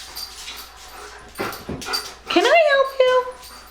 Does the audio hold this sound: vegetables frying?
no